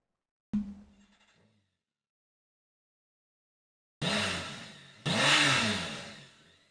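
A BMW M motorcycle engine fires with a short bark that fades into silence, followed by two loud, sharp throttle blips a second apart, heard as a played-back recording.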